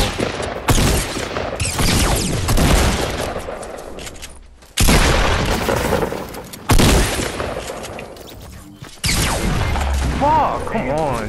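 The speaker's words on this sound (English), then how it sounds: "Somebody else is shooting from the south, it sounded like." Gunfire in a multiplayer squad shooter: loud bursts of shots and crashing impacts come in several clusters separated by brief gaps, with voices talking over them.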